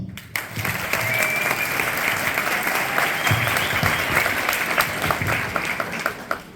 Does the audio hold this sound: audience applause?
yes